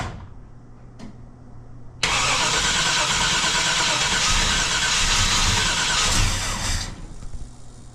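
A 1966 Chevrolet Impala cranks briefly, then its engine catches at about two seconds and roars loudly with a steady rumble that eases off near the end; no voices.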